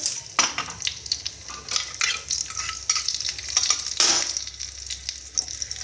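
Green chillies stirred into hot oil with curry leaves for a dhaba-style dal fry tadka, loud crackling sizzle with scraping stirs, close up and without talk.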